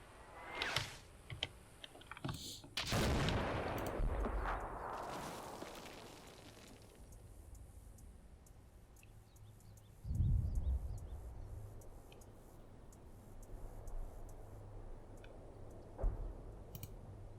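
Artillery fire in the wargame Combat Mission Black Sea: a few heavy, rumbling impacts land around three and ten seconds, separated by quieter ambient clicks and faint battlefield noise, with no talk.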